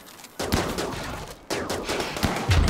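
Rapid gunfire bursts in the Rimworld video game, two sustained volleys of crackling shots, the first starting abruptly after a brief pause and the second after a short gap, loud and dense.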